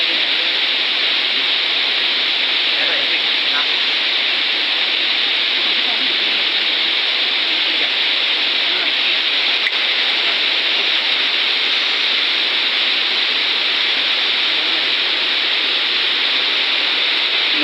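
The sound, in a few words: rain falling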